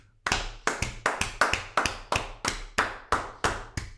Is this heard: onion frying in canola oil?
no